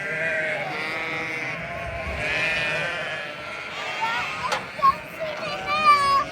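Sheep bleat repeatedly across an outdoor field at lambing time in Scotland, several overlapping calls near and far, with children's voices and chatter mixed in throughout.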